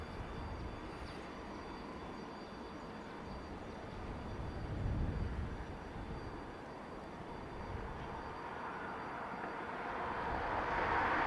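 A Cessna Citation business jet at Dublin Airport gives off a continuous broad engine roar that swells and builds toward the end, steady and moderately distant, with no voices.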